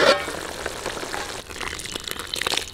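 Steady bubbling and crackling of tamarind gravy simmering in a pot on the stove, a continuous close hiss with small pops throughout.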